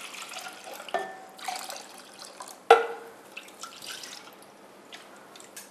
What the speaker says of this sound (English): now the rest of the water, I'm going to pour it.